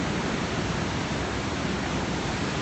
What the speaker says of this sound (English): That's the storm in the sea.